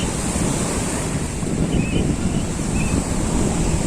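Ocean surf at Dhanushkodi beach, where the Bay of Bengal meets the Indian Ocean, roars steadily and loudly throughout, with wind buffeting the microphone and no voices.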